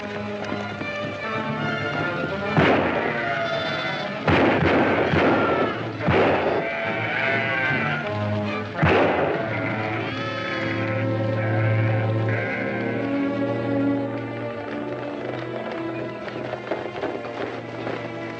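Sheep bleat repeatedly over a busy backdrop of horse hoofbeats and music in an old Western film, with several sharp bursts as the calls overlap, loud and close.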